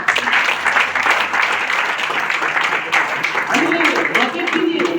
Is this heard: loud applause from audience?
yes